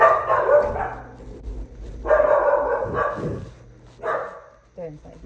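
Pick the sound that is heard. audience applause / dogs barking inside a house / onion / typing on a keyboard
dogs barking inside a house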